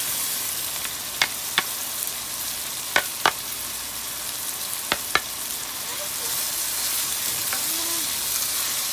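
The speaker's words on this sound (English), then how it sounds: "Okay, now I'm gonna be frying my vegetables" Vegetables frying for rice in a pan, a steady close sizzle with a few sharp utensil clicks against the pan and no talking.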